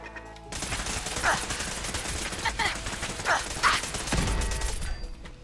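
Automated turret gunfire in Fallout 4, a steady rapid stream of shots running for several seconds at moderate loudness, with a few brighter metallic bursts and mechanical clatter mixed in.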